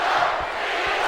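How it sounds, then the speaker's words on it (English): Dense arena crowd roaring and cheering at a WWE 2K video game wrestling event, a loud sustained wash of many voices with small swells. "With the crowd firmly behind Cena"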